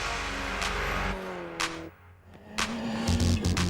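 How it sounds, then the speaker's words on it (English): A Toyota Corolla WRC rally car is pushed hard on extreme gravel tracks during hot-weather testing in Greece. Its engine drones close by, rising and dropping through gear changes, and breaks into sharp bursts near the end. "The heat and extreme gravel tracks are ideal for pushing the rally car to its limits."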